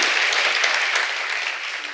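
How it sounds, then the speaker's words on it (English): Audience applause at a conversation event with Subhash Ghai and Sadhguru, a dense steady clapping that holds loud for two seconds and eases slightly toward the end. "you shouldn't clap for yourself like that"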